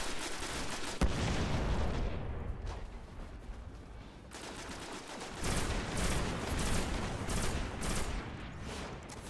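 Sustained bursts of gunfire in the Destiny alpha strike The Devil's Lair, dense and loud throughout, with heavier booming hits near the start and again midway.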